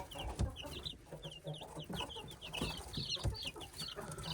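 Backyard chickens of mixed breeds, including Brahma and Australorp, clucking and chirping nearby in a steady, busy chatter, with soft scuffing underneath and no speech.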